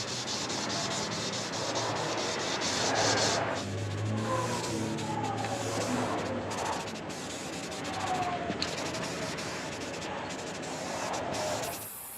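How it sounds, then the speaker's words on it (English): Old red paint on a plywood top is sanded outdoors, giving a continuous, gritty rubbing and scraping hiss with uneven strokes, close and steady, with wind and a passing vehicle faintly in the background. "spend a few minutes sanding just to make sure everything comes out nice and smooth"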